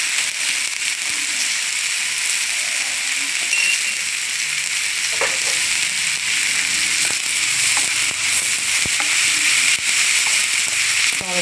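Ivy gourd (kovakka) pieces sizzle steadily in a hot pan, a loud continuous frying hiss with occasional scraping and clinking as they are stirred, close and without speech.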